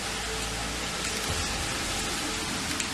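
Steady hiss of heavy rain and hail striking a road during a storm in Germany, a dense continuous wash of noise with low rumble underneath and no pauses.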